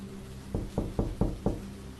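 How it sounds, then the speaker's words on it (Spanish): Five slow, evenly spaced knocks on a door, each a dull thud. They sound close and stand alone with no voices, set against a low, steady background hum. "Tocaron a la puerta, muy despacio."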